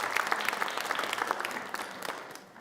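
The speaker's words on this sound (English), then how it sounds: "you can clap again." A congregation at a Shabbat evening service applauds for a birthday with dense, continuous clapping from many hands that fades slightly toward the end.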